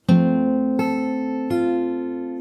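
Fingerstyle guitar plucking three strings together for the Animal Crossing New Horizons theme, then two more plucks spaced evenly, each ringing on clearly and alone.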